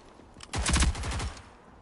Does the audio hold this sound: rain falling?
no